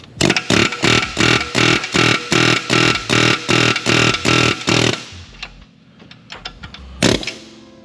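A pneumatic air hammer rattles loudly in about a dozen rapid bursts while freeing torn axle boots on a Porsche 996/997, then stops, leaving scattered clanks and one last short burst.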